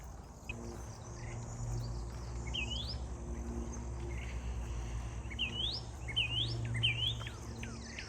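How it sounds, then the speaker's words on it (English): Several birds chirp with quick, rising tweets scattered through a quiet outdoor scene, some near, some distant, over a soft insect hum. "I'm sure you can hear all the birds chirping around me."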